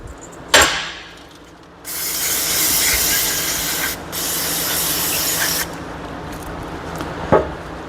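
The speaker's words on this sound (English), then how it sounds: "I like to wash this stuff all out with a good solvent-based brake clean" Solvent-based brake cleaner sprayed from an aerosol can onto car parts during restoration work on a 1967 Galaxie and 1966 Mustang. Loud close hissing bursts, a short blast then two longer sprays separated by a brief pause, with faint clinks between.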